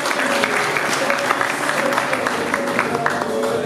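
An audience at an evening event breaks into sustained applause, a steady wash of clapping hands that fills the room, with some talk mixed underneath.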